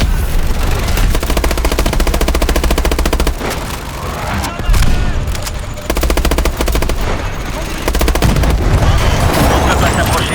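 Rapid bursts of machine-gun fire and heavy booming blasts in Call of Duty: Advanced Warfare rattle continuously, loud and close, with brief lulls before the barrage resumes; a voice is faintly heard underneath.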